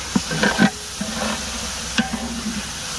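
Chicken gravy with ground onion and tomato paste cooking in a large pot, a big batch of about fifteen kilos, with a few scraping stirs of a spoon over a steady low sizzle.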